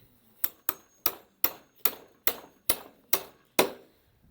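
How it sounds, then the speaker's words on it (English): A bolt is hammered into a garden room roof joist with nine sharp, ringing blows at a quick, slightly uneven pace, close and distinct against quiet. "Knock your bolt in here."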